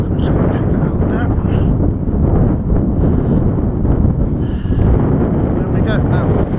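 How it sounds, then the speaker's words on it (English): Strong wind buffets an outdoor spot where a ham radio antenna mast is being put up, a steady loud rushing roar with microphone buffeting that runs unbroken through the whole stretch. "Well, it is a windy day."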